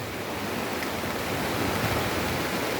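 Floodwater rushing through a flooded waterway in Narathiwat, a steady, dense roar of flowing water that stays loud and unbroken throughout.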